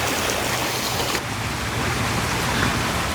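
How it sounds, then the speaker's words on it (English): A water wheel in the seaside town of Chemainus, British Columbia turns steadily, its splashing and rushing water forming a continuous, fairly loud wash with no voices over it. "There's the water wheel again."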